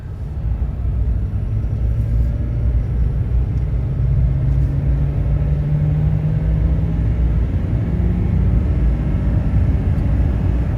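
Ford 6.7 Super Duty diesel truck driving on the road after an intercooler pipe repair, a steady loud rumble of engine and road noise with a faint rising tone as it accelerates.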